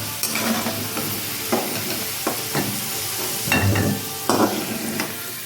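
Sliced potatoes sizzle steadily in hot oil while a utensil repeatedly scrapes and stirs them in the pan, a close, continuous frying hiss punctuated by clattering strokes, with no talking.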